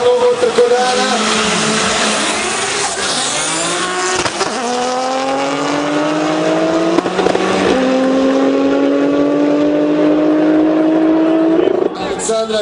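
Audi RS4 and VW Golf II street race cars launching at a drag strip event, a loud engine roar climbing in pitch through rising gear pulls, with tire squeal and crowd noise around it.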